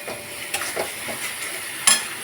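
Spice masala frying in a pan with a pinch of Kashmiri chilli added, a soft continuous sizzle with a few stirring scrapes and one sharper clink near the end.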